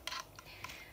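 A computer mouse at a desk PC gives three crisp, quiet clicks close to the microphone, spaced about a third of a second apart.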